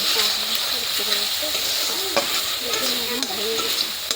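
Loud, steady sizzling of a dried fish chutney in a pan, with a spoon scraping and stirring through it after water and cumin spice powder go in, continuous and close throughout.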